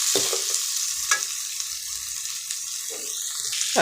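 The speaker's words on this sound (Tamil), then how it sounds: "இப்போ இந்த பன்னீர் வந்து இந்த மசாலாவோட நல்லா வதங்கி வந்துடுச்சு" Paneer sautéing with masala in a pan while a spoon stirs it, a loud close hiss of frying with a few soft scraping strokes, no talking.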